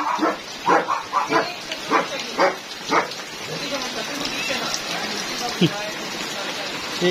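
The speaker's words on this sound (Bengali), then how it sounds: "অনেক বৃষ্টি হচ্ছে" Heavy rain falls steadily on a surface in a continuous hiss, while a German Shepherd puppy yelps and whimpers nearby and people talk over it.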